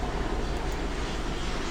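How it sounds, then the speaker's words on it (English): Helicopter flying overhead in Los Angeles, a steady broadband rotor and engine rumble that stays loud and constant throughout, with no voices. "Sorry for the helicopter."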